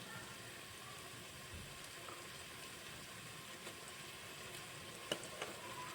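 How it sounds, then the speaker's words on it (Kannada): Ginger garlic paste sizzles and fries in a hot pan for an egg biryani, a steady low crackling hiss with faint stirring scrapes throughout and a couple of small clinks near the end. "ಶುಂಠಿ ಬೆಳ್ಳುಳ್ಳಿ ಪೇಸ್ಟ್ ಹಾಕೊಂಡ್ಮೇಲೆ ಚೆನ್ನಾಗಿ ಫ್ರೈ ಮಾಡ್ಕೋಬೇಕು"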